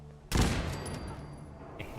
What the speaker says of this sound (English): Machine gun turret.